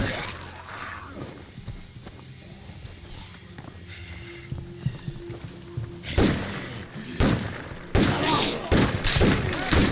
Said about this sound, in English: I feel like he's shooting the porch more than he's shooting the zombies